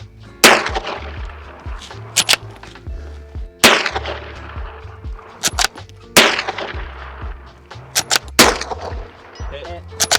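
Lever-action rifle firing at long distance outdoors: four loud, sharp shots spaced about three seconds apart, each trailing off in a ringing echo, with faint clinks of the action being worked between them.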